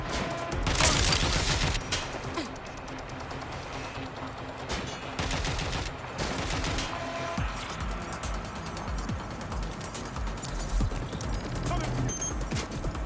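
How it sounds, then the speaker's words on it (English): Gunfire in Watch Dogs Legion, with bursts of rapid shots and scattered single cracks spread across the stretch, close and loud amid game noise, with voices calling out in between. "Suspect shooting!"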